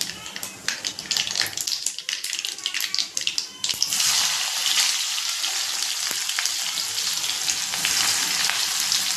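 Onion frying with cumin seeds in hot oil, first crackling in bursts, then a loud steady sizzle once the onion goes in, with some stirring noise.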